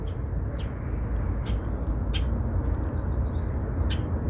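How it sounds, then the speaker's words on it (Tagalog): Several birds chirp and trill outdoors in Canada, with scattered high calls and quick repeated tweets over steady low traffic-like rumble, no talk. "So ayan, daming ibon humuhuni."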